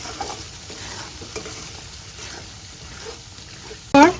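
Goat brain stirred in a pan of gravy, a steady soft sizzle and frying hiss with scraping stir strokes throughout, ending in a brief louder clatter.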